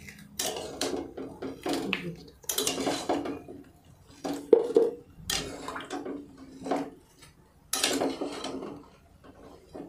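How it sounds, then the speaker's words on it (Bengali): A utensil clinks and scrapes against a metal pot while banana pieces are stirred in boiling salted turmeric water, in irregular bursts of knocking and sloshing at close range. "এরপর একটু নেড়ে দিতে হবে যাতে নুনটা জলের সঙ্গে মিশে যায়।"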